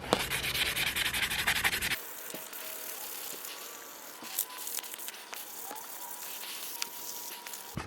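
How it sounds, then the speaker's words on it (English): Tar is sanded off a Saab 9-3 grille with rough sanding pads: two seconds of fast, loud, gritty scrubbing close by, then softer scattered rubs and light clicks. "So let's get this sanding done."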